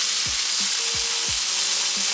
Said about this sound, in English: I've just had the pan heating up, and I'm gonna fry some kale in here